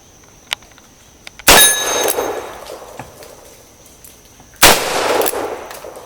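Two loud single-action .45 Colt revolver shots from a Cimarron, about three seconds apart, each followed by a ringing clang of steel plate and a decaying echo across open ground.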